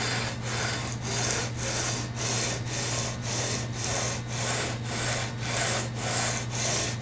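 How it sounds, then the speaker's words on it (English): Sanding a guitar neck with 320 grit paper on a sanding beam, about a dozen even back-and-forth abrasive strokes in a steady rhythm, close and consistent with a low hum underneath. "So using 320 grit, I'm going to place it on top of here, the sanding beam, and I'm just going to gently go back and forth over this."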